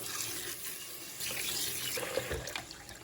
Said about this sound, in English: I'm just going to rinse it in my Instant Pot and then just be careful while I'm draining it.